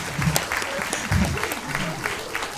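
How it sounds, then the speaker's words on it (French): A French audience claps for a guest at a live school news event, with brisk, dense applause filling the room at steady loudness and a few voices underneath. "Ouais, on peut l'applaudir."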